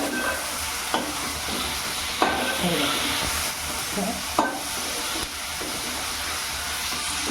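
Ginger-garlic paste frying on a gas stove for mutton liver, a steady close sizzle broken by a few sharp spoon taps and stirring scrapes against the pan, with faint background noise.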